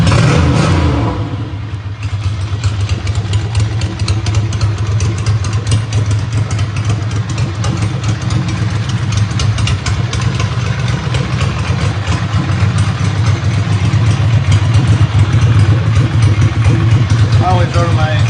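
A 2002 Ducati Monster with a Voodoo slip-on exhaust idles close by, a loud, steady, lumpy V-twin burble that holds for the whole stretch, with a voice speaking over it at times.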